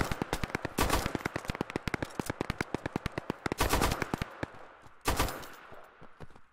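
Rapid bursts of automatic suppressive gunfire in the video game Operation: Harsh Doorstop crack repeatedly, dense sharp shots with a few heavier blasts, loud and continuous throughout like a sustained firefight.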